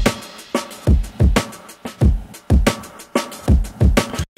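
A two-measure drum loop plays loudly with a high-passed sample layered on top, punchy kick and snare hits repeating in a steady groove with no voices.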